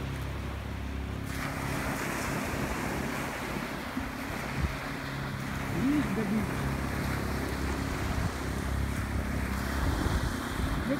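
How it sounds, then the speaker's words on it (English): Waves washing ashore on a quiet family resort beach, a steady rolling surf mixed with gusty wind buffeting the microphone, with faint voices in the distance. "Look at the beach. It's very quiet."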